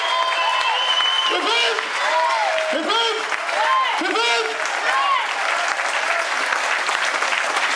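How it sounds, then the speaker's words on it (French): Crowd applause for the podium winners at the 2016 Arzacq rally, a dense, steady wash of clapping that fills the whole stretch, with a voice talking over it throughout. "Et on les applaudit."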